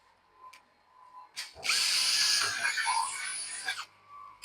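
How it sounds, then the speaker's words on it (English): A power drill with a 6 mm bit bores a hole in a door key, a single loud grinding whine lasting about two seconds, with brief quieter motor revs before and after. "you bore a hole with 6 mm drilling bit"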